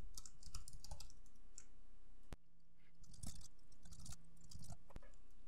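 Computer keyboard typed on in quick bursts of clattering keystrokes, close and fairly quiet, with brief pauses and a couple of sharper clicks.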